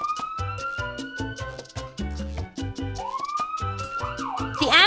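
A synthetic video-game ambulance siren wails and rises over bouncy electronic game music, with rapid warbling tones swelling near the end.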